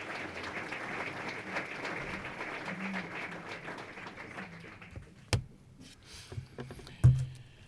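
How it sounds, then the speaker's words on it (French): An audience applauds after a round table discussion at a flexwork event. Dense, steady clapping fills the first five seconds, then thins into a few scattered claps and quiet room noise. "je pense que tout le monde a mérité un applaudissement"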